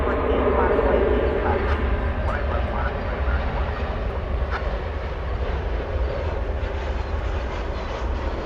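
An Airbus A321 arriving at DFW Airport rumbles in a continuous, heavy low roar with a broad engine hiss across the whole stretch, loud and steady, with a voice faintly underneath.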